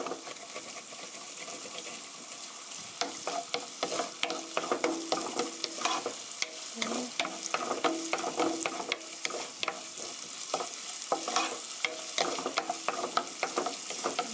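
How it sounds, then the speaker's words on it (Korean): Onion and garlic sauté in a pan under a soft, constant sizzle, joined partway through by repeated scraping and stirring strokes that come in uneven bursts, close up and without speech. "양파와 마늘을 향을 내주세요."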